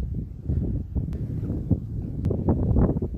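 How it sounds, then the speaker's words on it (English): Wind at a lakeside campground rumbles as low, gusty microphone buffeting, loud and close, swelling and easing in waves with a few brief rustles. "In the shade, it is kind of cool with that wind blowing"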